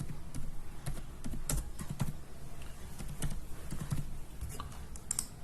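Computer keyboard typing as text is entered into an Excel spreadsheet, a steady run of close, fairly loud key clicks with no talking.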